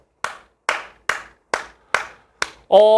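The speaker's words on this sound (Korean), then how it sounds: "17번 문제는 박수를 한번 치도록 할게요" A single person claps hands six times in a steady, evenly spaced rhythm, each clap sharp and close, followed by a brief tonal beep.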